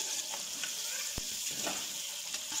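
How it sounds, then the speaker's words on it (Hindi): Chopped onions frying in a pan for beef pulao, a dense close hiss of sizzling oil with faint scrapes and one sharp low thump partway through, ending in a brief drop. "I am adding some chopped onions."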